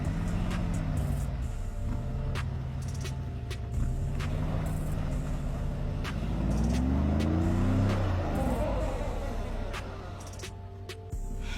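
Car climbing a snowy hill during a winter traction test of Kia, Hyundai and Mazda models, its engine droning and revving steadily close by, with pitch rising and falling as the tires fight for grip.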